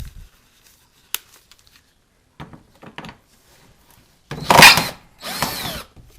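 A power drill backs Torx fasteners out of a car's underbody panel, with scattered clicks and handling noise before two loud whirring bursts near the end.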